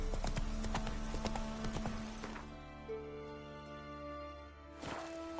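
A horse gallops in The Witcher 3 video game, with rapid rhythmic hoofbeats loud and close for about two and a half seconds, then fading under a sustained musical tone before a brief return.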